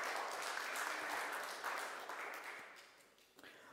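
An audience claps together in a steady, fairly loud wash that fades gradually toward the end, with no talk over it.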